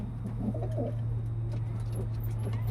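A male pigeon coos in a few soft, close throaty bursts over a constant low electrical hum, with no talking.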